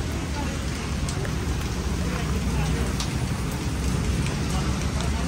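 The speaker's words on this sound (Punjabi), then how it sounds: "ਮੀਂਹ ਆ ਗਿਆ ਜੀ" Heavy rain, with hail mentioned, pours steadily and loudly in an unbroken hiss, with scattered sharper drop impacts on surfaces throughout.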